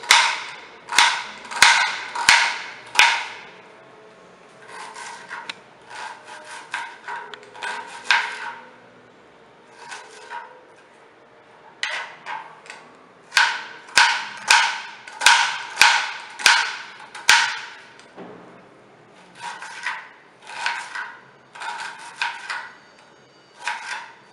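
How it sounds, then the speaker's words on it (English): Onions are finely chopped with a knife on a cutting board for a cashew tomato bath upma, sounding as close, sharp rhythmic bursts of rapid chops separated by short pauses; no talking. "So now we'll cut the onions into fine pieces."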